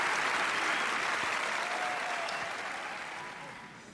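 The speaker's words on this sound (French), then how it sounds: "un petit applaudissement pour les modèles" Audience applauds the models after the first runway pass at a modeling contest final, a dense, steady round of clapping that slowly fades over several seconds.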